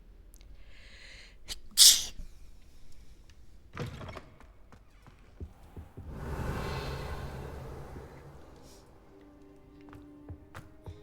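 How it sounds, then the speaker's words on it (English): A single sharp sneeze in Hogwarts Legacy, loud and close, followed by scattered thuds and a swelling rush of magical ambience, with no speech. "I'm gonna sneeze."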